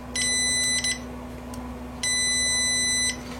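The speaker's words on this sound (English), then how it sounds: "I touch the probes, I get a beep." Two short, high electronic beeps from a multimeter continuity test, each about a second long with a brief gap between them, clear and close over a faint background hum.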